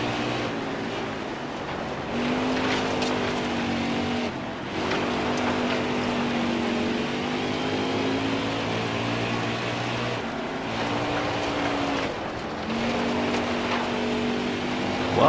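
Race cars in the NASCAR Heat 4 video game roar continuously with a loud, steady engine drone and rising pitch sweeps as gears change, running nearly the whole stretch with a few brief dips.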